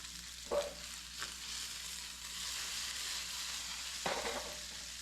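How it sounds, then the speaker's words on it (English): Bacon renders in a pan with a steady, soft frying hiss throughout, broken by a few brief clinks or scrapes near the start and again toward the end. "Let the bacon render down."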